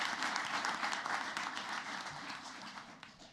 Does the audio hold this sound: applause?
yes